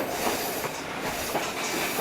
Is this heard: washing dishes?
no